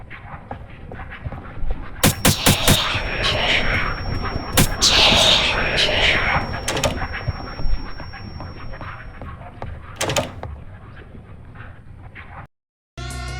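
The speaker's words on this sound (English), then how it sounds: "Here's some footage of Eyes' attack." An Eyes entity attack in the Roblox horror game DOORS makes a burst of sharp, loud cracks and hits over rough, breathy noise, then a scattered pause and a final short, sharp hit.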